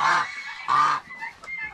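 Geese and turkeys on a farm with hens nesting: two loud, drawn-out honks in quick succession, then a few softer, shorter calls close by, with no talking.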